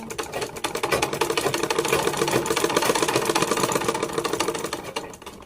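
A sewing machine stitches a straight seam in one continuous, close, rapid run, its fast mechanical chatter holding steady for several seconds with no voices.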